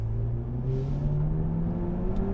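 Renault Megane R.S. Trophy-R hot hatch accelerating on the road, a steady, loud engine drone rising gently in pitch over about two seconds, heard from inside the car with no talking.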